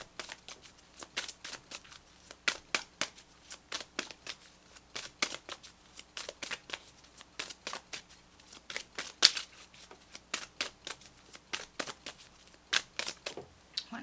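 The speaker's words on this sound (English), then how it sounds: "let's pull you an additional guidance card" Tarot cards shuffled by hand, a long run of quick crisp riffles and flicks in irregular bursts, close and alone with no talking.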